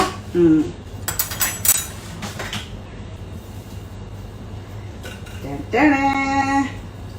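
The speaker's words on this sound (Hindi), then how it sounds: "अब खोला जाए कुकर को" Metal utensils clink and rattle against a pressure cooker being opened a few times, close by, over a low background hum, with a voice briefly at the start and end.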